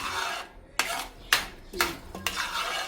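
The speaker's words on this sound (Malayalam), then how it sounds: "ഇതിങ്ങനെ ഇളക്കി വെക്കാം" A spatula stirs and scrapes thick papaya halwa around a pan in several distinct, rasping strokes with short pauses between them, close and clear with no talking.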